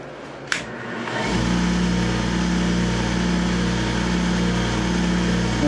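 Wood lathe spins a pen blank of mystery wood for a gold bolt-action pen while finish is wiped on with a cloth, a steady close motor whine starting after a short click.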